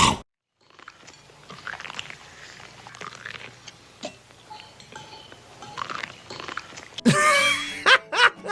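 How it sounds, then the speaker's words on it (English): Exaggerated corn-crunching sound effect from the 1972 film Terror at Red Wolf Inn, a series of close, wet chewing and crunching bites that builds to a louder, denser burst of crunches near the end. "they put extra sound effects over the top to accentuate the corn crunching"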